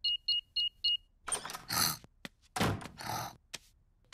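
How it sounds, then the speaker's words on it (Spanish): A house alarm in a Peppa Pig cartoon beeps four times in quick, evenly spaced succession as it is switched off, followed by several thuds and knocks. "¡Voy a apagar la alarma!"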